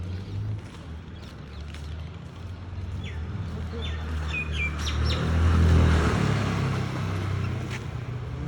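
Birds chirp in a garden during a morning walk near a graveyard, a few short bright calls standing out over a steady rumble of passing road traffic, fairly close.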